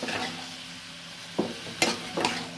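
A spice mixture being stirred into a winter vegetable curry in a pan, with a low background sizzle and several distinct scraping stirs toward the end, close up with no talk.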